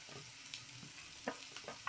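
Onions sauté in a pan for restaurant-style fish fried rice, giving a faint, steady sizzle broken by a few light scrapes and taps as a spatula stirs them.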